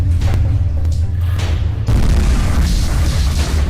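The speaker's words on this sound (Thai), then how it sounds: "การทดสอบการระเบิดยางเกราะแบบ4คูณ4" An explosion test on an armored 4x4 vehicle tire: a heavy blast with deep rumbling, a sharp boom near the middle followed by a lingering low roar.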